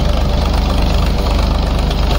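A 35 HP tractor engine runs a 7-foot rotavator in a field, a loud, close diesel throb with an even, rapid low pulse that holds steady throughout.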